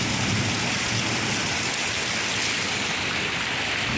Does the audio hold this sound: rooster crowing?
no